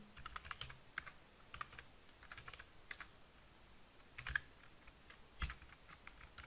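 Quiet, irregular typing on a computer keyboard while writing JavaScript code, scattered clusters of light key clicks with a couple of firmer taps and brief pauses between.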